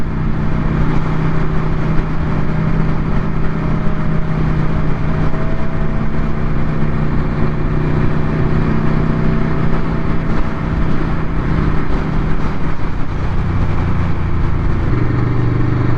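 A superbike engine roars at high speed on the Isle of Man TT road course, a loud, constant droning whine with buffeting wind noise from on board, and a slight shift in pitch near the end.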